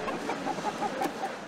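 Imported fighting roosters cluck in short, repeated calls over a steady murmur of background noise, fairly close, at an airport.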